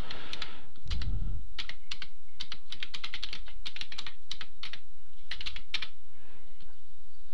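Brisk typing on a computer keyboard while entering text in Microsoft Word 2010: a close, loud series of sharp key clicks in uneven bursts, with a heavier thump near the start, no voices.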